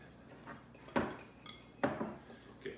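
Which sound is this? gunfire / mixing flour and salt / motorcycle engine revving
mixing flour and salt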